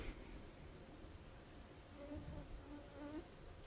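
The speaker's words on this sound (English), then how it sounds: "We have some flies in here, so you might hear that little buzzing sound once or twice." Flies buzzing inside a room, a faint, thin, wavering drone that rises and falls near the microphone, with no voices.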